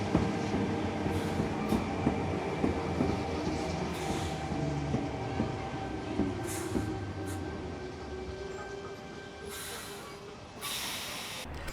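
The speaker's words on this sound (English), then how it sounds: "6029 is seen passing by with its first shuttle train to Hurstville." Steam locomotive 6029 hauls a shuttle train past toward Hurstville, giving a sustained rolling rumble with clanking wheels and bursts of hissing steam, fairly close and fading slightly toward the end.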